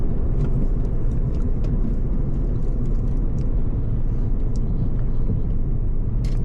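A 2015 Volkswagen GLI with a manual gearbox drives and speeds up, a steady, dense low engine and road rumble filling the cabin throughout, with no talking.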